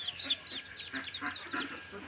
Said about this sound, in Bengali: এই যে এটা আমার মুরগির অনেকগুলো বাচ্চা আছে।